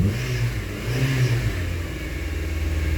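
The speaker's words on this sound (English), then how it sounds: "the snap throttle is a lot better" A Honda Civic engine, just fitted with a replacement catalytic converter, snaps up through two quick throttle revs, then settles into a steady, close idle drone.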